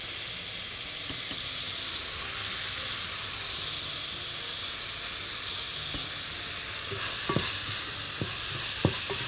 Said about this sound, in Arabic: لان الحلة سخنة فاحنا قربنا نسوي اللحمة